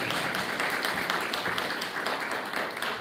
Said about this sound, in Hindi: तो जिंदा है इसके लिए अपना तालियां बजाओ,